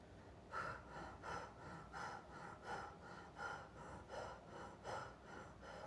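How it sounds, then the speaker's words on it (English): Slow, even breathing during a meditation session, with about eight soft, steady inhale and exhale swells at a quiet level and no talking. "slow down the breathing, but keep it rhythmic and continue"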